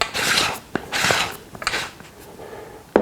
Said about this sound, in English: Again, just use the spanner to tighten.